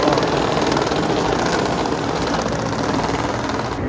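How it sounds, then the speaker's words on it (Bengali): A MotoGP racing motorcycle at the Sepang circuit, its high-revving engine a loud, continuous roar that holds steady while it passes close by. "এই যে আরেকটা বাইক আসতেছে"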